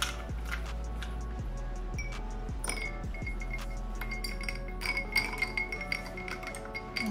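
Ice cubes dropped into a glass of water for a cumin and ginger summer drink, giving scattered bright clinks and taps, some sharper knocks early on, then a busier cluster toward the end.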